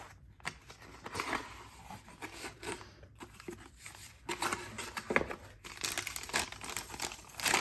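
Eco-friendly paper packaging from an art supply haul is unpacked close by: irregular bursts of loud crinkling and crumpling, with brief tearing-like rustles and short pauses, and no talking.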